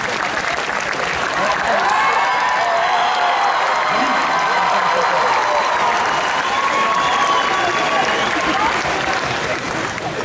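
Sustained, dense applause from a convention crowd greeting an entrant in a cosplay parade at a Japan-themed fan event, loud and steady throughout with a few cheers mixed in.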